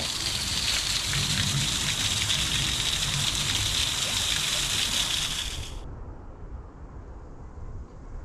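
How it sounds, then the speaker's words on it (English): Steady, dense rush of a waterfall outside Prague's city centre fills the first six seconds, then drops away abruptly, leaving a quieter low wash. "the origin of the waterfall"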